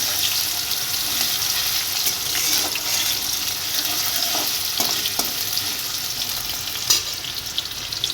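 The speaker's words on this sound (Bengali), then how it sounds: "আলুগুলো ভেজে নিচ্ছি।" Potatoes fry in a pan for Bengali home cooking, with a steady hiss and sizzle throughout and occasional light clinks of stirring.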